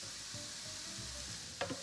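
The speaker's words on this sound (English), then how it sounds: "And we will give it a stir." Vegetables seasoned with salt and pepper get stirred in a cooking pot, a soft low sizzle and brief scraping strokes ending in a quick clink, fairly quiet and with no voices.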